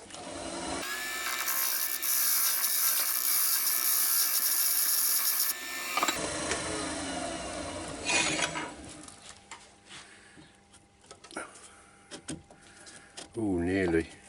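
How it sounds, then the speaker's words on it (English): A wood lathe spins an old bowl while a square carbide tip trims its edge, giving a steady mechanical whir with intermittent scraping cuts, then stops and gives way to quieter handling noises and someone talking. "So I'll go in with the square carbide tip, I think, just to take a little bit off this edge."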